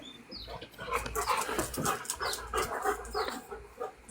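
Dogs panting and whimpering close by outdoors in a backyard, steady rapid breathing with brief high whines throughout.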